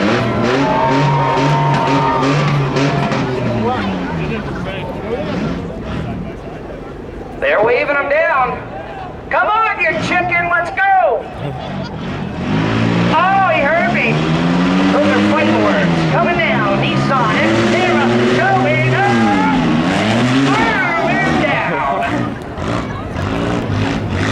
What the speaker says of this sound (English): Here comes the sedan.